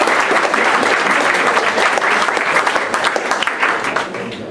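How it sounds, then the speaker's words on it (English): At a school reunion, the crowd gives a round of applause: loud, close, dense clapping that stays strong before tapering off toward the end. "Let's give them a round of applause"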